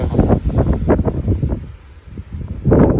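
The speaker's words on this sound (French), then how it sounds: "ces rafales de nord-ouest à 60-65 km/h" Strong northwest wind gusts of about 60–65 km/h in hot summer weather, mistral-like, roar and buffet the microphone in loud rushing swells, easing briefly before surging again.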